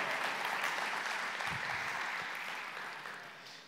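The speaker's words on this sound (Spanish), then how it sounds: "Le da un aplauso al Señor." A church congregation applauding together during a sermon, a steady wash of clapping that holds loud and then slowly fades toward the end.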